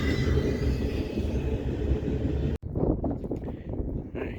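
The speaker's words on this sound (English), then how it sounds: "there goes 20T heading eastbound" An eastbound freight train, 20T, rumbles past in a steady broadband roar with wind buffeting the microphone, then cuts abruptly to a quieter, fainter rolling clatter.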